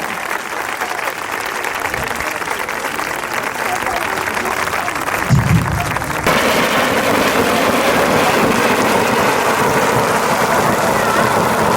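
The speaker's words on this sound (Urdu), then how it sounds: "پاسٹر داؤد پرویز صاحب کو ویلکم کریں گے آپ کی بھرپور تالیوں میں اور زوردار تالیوں میں۔" A church congregation claps to welcome a pastor at a sermon. Steady, loud applause runs throughout under ongoing voices, and it grows fuller and more intense partway through.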